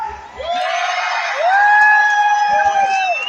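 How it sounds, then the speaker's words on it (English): Spectators at a knights' jousting show cheer and whoop in a loud, sustained roar, with high shouted voices rising and falling over the crowd noise. "The louder you cheer, the harder these knights will hit."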